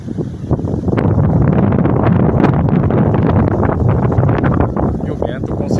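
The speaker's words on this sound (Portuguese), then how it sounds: "E o vento com certeza está mais de 17 km por hora também" Strong wind gusts during a Saturday rainstorm with thunder and lightning in Santa Bárbara d'Oeste, Brazil, roaring steadily and buffeting the microphone with a loud, continuous rushing noise.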